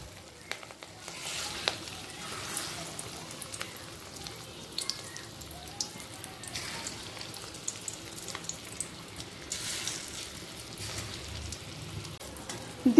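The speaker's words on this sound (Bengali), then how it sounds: "পরের বড়াগুলো ঠিক একইভাবে ভেজে নেব।" Katla fish roe fritters frying in hot oil give a steady soft sizzle with light crackles and occasional spatters, close and moderately quiet, with no talk.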